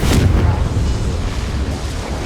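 A Confringo blast curse explodes in Hogwarts Legacy, a single loud, deep boom that bursts at once and rumbles off over about two seconds.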